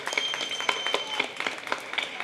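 Audience applause at the end of a DYFI cultural troupe's stage play in North Chennai, a steady run of claps with a sharp, crisp texture and no voices over it.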